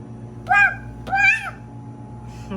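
A cat gives two clear, close meows in quick succession, each rising then falling, over a steady low hum, with no talking during the calls.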